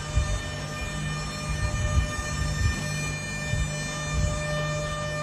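A toy train runs inside a railway museum in Mysore, producing a steady mechanical hum with sustained tonal whine and low rhythmic rumbling, continuous and fairly loud.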